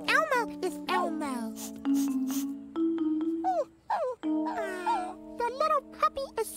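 A scared puppy whimpers in a children's television scene, with high thin cries mixed among cheerful voices and singing-like speech, the whines coming in short repeated bursts.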